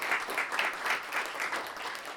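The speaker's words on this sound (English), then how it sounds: "we give them another round of applause" An audience at a moot court showcase applauds the students, dense, even clapping from a moderately sized crowd that keeps up for about two seconds, a little distant, with no speech over it.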